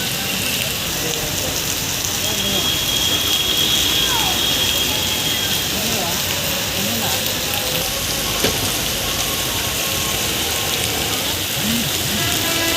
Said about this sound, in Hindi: मुकामात पर बारिश हो रही है।